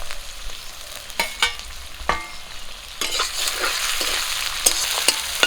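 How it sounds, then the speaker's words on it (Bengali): Onions and green chillies fry in oil left from frying rohu fish, giving a loud, close sizzle broken by repeated stirring scrapes and clanks. "মাছের তেলটার সঙ্গে পেঁয়াজ কাঁচা লঙ্কা সব কিছু ভালো করে ভাজা হয়ে যাবে"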